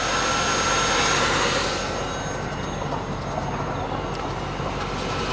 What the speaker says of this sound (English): This is the 300 horsepower LT1 engine.